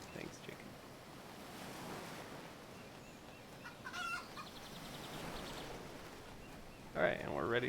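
Clucking from a chicken in the pirate video game Plunder, a few short bursts near 4 s and a louder one near the end over a steady wash like ocean surf.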